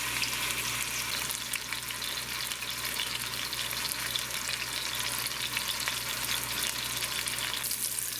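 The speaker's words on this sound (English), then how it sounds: "we're going to sear it about probably 6-7 minutes on each side" A large beef pot roast sears in a hot pan, giving off a steady, loud sizzle and crackle that holds unbroken from start to finish, with no voices over it.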